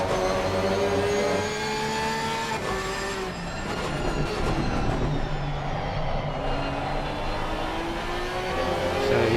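A Porsche race car engine in a PC racing game at Imola, a loud, sustained whine rising and shifting in pitch through gear changes, with other engines droning close behind.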